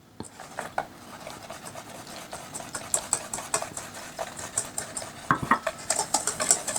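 A whisk mixing dry ingredients for wartime casein biscuits, giving a steady light scratching and tapping rhythm against the bowl that grows a little louder and more pronounced toward the end.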